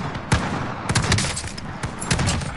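Gunfire in a PS4 war game, with rapid bursts of shots and scattered single cracks, loud and close, repeating across the moment with no talk over it.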